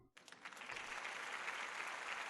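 A crowd applauds in the video game Psychonauts, a dense steady clapping that starts abruptly and holds at an even level throughout.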